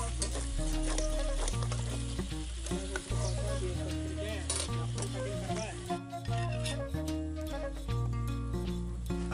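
Ground garlic sizzles and fries in a chicken karahi, a steady crackling fry under continuous loud music.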